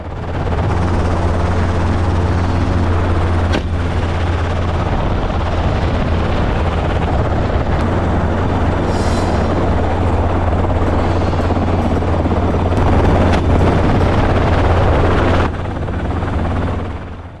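A hunting helicopter flies over Spanish countryside, its loud, steady rotor thump and engine roar droning without a break and close to the listener.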